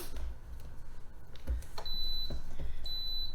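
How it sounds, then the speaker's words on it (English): A Pampered Chef Deluxe Grill and Griddle gives short electronic ready beeps in a quiet kitchen, two thin high tones spaced about a second apart amid faint handling knocks. "And that beep tells us our griddle's ready."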